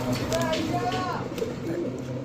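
A pigeon coos softly in short repeated phrases while people talk nearby at a pigeon market, and background noise hums steadily.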